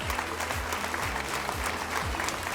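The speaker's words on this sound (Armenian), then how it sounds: "Ծափարենք" Audience applause at a televised talent show quarter-final, a dense continuous clapping from a large crowd, loud and close, filling the whole clip without pause.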